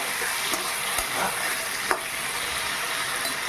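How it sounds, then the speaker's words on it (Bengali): Bottle gourd greens fry in a pan, giving a loud, continuous sizzle with occasional scraping stirs close by. "আমি এটা লাল লাল করে ভেজে নেব"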